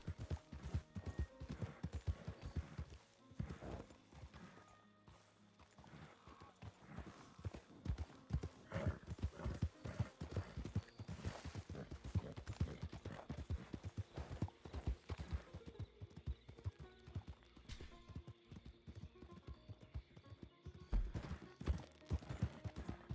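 Horse hooves clip-clop in a steady, continuous rhythm as a tired horse is ridden in the western video game RedM, with near, distinct footfalls throughout and a brief softer lull partway through.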